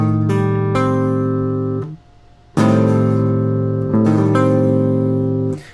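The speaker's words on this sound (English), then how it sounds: "this is sometimes called the half diminished chord" Electric guitar rings out a minor 7 flat 5, or half-diminished, chord in a tuned sustained strum, then after a short gap plays it again twice, each chord held and slowly decaying.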